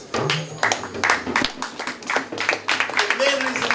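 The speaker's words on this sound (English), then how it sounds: "a round of applause." Audience clapping at a welcome ceremony where Native American chiefs receive an African royal delegation; uneven, scattered claps rise and fall across the moment while voices talk over them.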